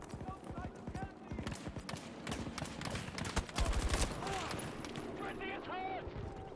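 Battlefield video game gunfire comes in rapid volleys of sharp shots, some close, some distant, under a player's spoken commentary and other voices.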